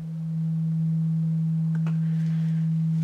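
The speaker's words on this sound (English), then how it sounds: "that's the input signal going into the Super Fuzz" Sine wave test signal feeding a Univox Super Fuzz pedal: a pure, steady low tone fades in and holds, smooth and unbroken, with a faint blip near the middle.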